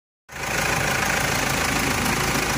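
A 2010 Mitsubishi Dakar diesel engine starts up suddenly after a moment of silence, then idles in a steady, loud, close rumble with a faint knocking texture.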